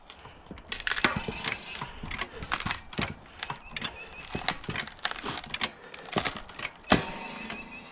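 A log snapping in a Harbor Freight 10 ton manual log splitter, a run of sharp cracks and creaks building to one loud split near the end, close by with faint voice.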